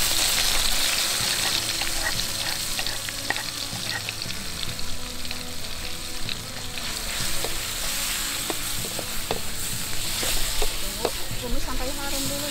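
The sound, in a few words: stir-frying ground spice paste in a pan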